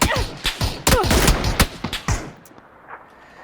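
Rapid bursts of gunfire in the video game PUBG crack in quick succession, several loud shots close together, then trail off into quieter distant pops.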